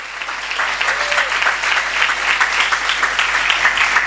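A church congregation at a Spanish-language Christian service claps loudly and continuously, a dense, close wash of hand claps sustained throughout without a break.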